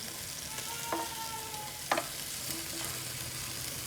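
Vegetables fry in a pan over a low flame, a steady soft sizzle with a few stirring scrapes and clinks, heard alone without talk.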